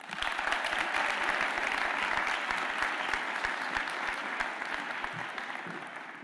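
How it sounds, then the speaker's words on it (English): Sustained applause from a graduation ceremony audience as a speaker is welcomed, dense and steady throughout, loud and close, slowly easing toward the end. "Y'all got to give her another round of applause"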